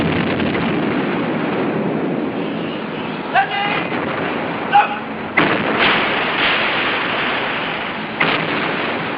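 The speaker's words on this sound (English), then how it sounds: "Hundreds of cannons opened a barrage of hellfire on Turkish positions" A barrage of hundreds of cannons firing on entrenched positions in Palestine in 1918, heard as a dense, continuous rumble with several sharper blasts standing out, under a narrating voice.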